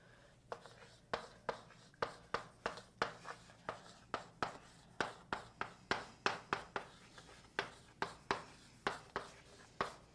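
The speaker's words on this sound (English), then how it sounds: "I'm going to write that out, then let's take those partial derivatives." Pen or pencil scratching on paper while working a multivariable calculus problem, a steady series of short strokes and taps, close and fairly quiet, with no talking heard.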